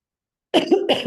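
A woman with flu gives a short burst of two or three close, loud coughs after a moment of silence.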